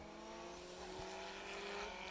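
A Chrysler Sunbeam rally car on an asphalt rally stage at Rally Ceredigion sounds faint and distant, its engine note steady with a slight swell toward the end.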